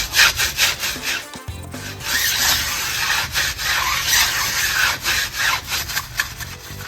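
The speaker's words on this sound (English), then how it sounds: "I'm going to grab our wheel brush and just start scrubbing" A wheel brush scrubs a car tire in rapid, rhythmic back-and-forth strokes, giving a loud, close, gritty bristle rasp that continues steadily with only a brief pause.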